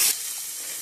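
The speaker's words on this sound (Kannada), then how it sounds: "ನೋಡಿ ಇವಾಗ ರೋಸ್ಟ್ ಆಗ್ತಿದೆ. ಸ್ವಲ್ಪ ಮೆತ್ತಗಾಗಿ ಈರುಳ್ಳಿ ಎಲ್ಲ ಚೆನ್ನಾಗಿ ರೋಸ್ಟ್ ಆಗಲಿ." Chopped onions roast and sizzle in a hot pan, a steady bright frying hiss that is loudest for the first moment and then settles, with no voices.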